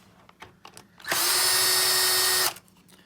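A power screwdriver whirs steadily for about a second and a half, backing a screw out of the side cover of a Toshiba 4540c copier, with small clicks and handling noises before and after.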